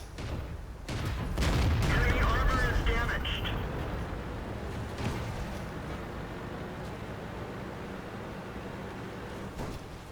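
A heavy cannon blast from a KV-1 tank in the video game World of Tanks booms early on, followed by lingering rumble and scattered fainter battle noise as the din slowly fades.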